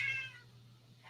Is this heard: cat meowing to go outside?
yes